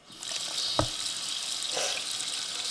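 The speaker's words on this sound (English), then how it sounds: "Whoa, it's like cracking." Ice crackling and popping around frozen LEGO bricks, a steady fizzing hiss with one sharp close crack and a few softer pops scattered through it, no voices.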